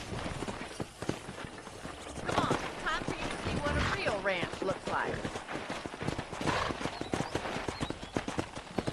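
Horse hooves clip-clopping steadily at a walk in the Red Dead Redemption video game, close and crisp, with someone speaking briefly over the rhythmic footfalls.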